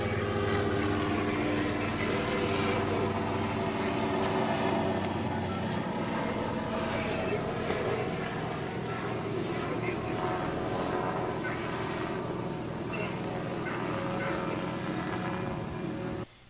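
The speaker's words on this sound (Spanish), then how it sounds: "Hay un helicóptero militar a dar una vuelta," A steady, loud rotor and engine drone fills the air throughout, a military helicopter passing close overhead without pause.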